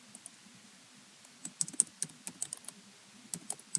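Someone types a folder name on a computer keyboard, producing quiet, crisp key clicks in short irregular bursts, sparse at first and then quicker, with no talking.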